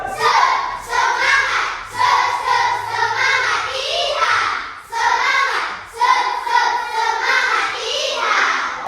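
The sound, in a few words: class clapping the 'tepuk semangat cowboy' rhythm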